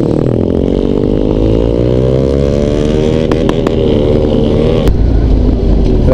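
A motorcycle fitted with an aftermarket exhaust revs up close and loud, its pitch climbing steadily through a long pull with a few sharp pops and crackles near the end.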